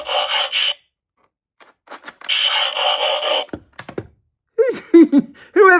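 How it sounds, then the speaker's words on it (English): A Cyberworld Scorponok transforming toy whirs in two buzzing mechanical bursts with clicks and thunks between them as its rear trigger is squeezed, close up, followed by someone speaking. "to do the transformation, you need to squeeze this trigger at the back"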